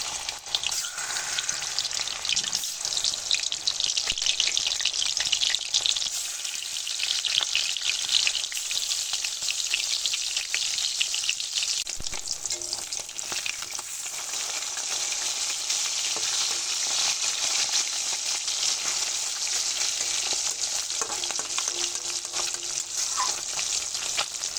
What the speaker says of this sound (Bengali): লবণ হলুদ মাখানো মাছগুলো ভেজে নেব।